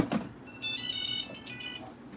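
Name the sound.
robot mop chime when plugged in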